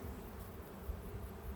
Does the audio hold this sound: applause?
no